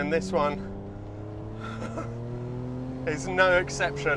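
A Ferrari V12 engine runs with a steady, low mechanical drone throughout, sitting beneath someone talking over it the whole time.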